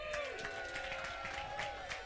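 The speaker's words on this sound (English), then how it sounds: "Everybody give a cheer for my mom." A comedy show audience cheers and whoops for the comedian's mom, a brief, fairly distant crowd roar with a voice or two rising above it.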